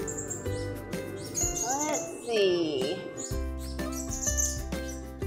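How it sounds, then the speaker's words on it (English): Blue-crowned hanging parrots at San Diego Zoo chirping and twittering in quick, high bursts amid jingly background music, with a brief spoken word. "Here come some hanging parrots right now."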